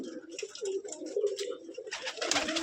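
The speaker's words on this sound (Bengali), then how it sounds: "এখানে অনেক কবুতর আছে উড়াবাজির" Flying-breed pigeons at a sale coo in low, throaty, rolling calls, several birds close by, with a burst of fluttering or scuffling toward the end.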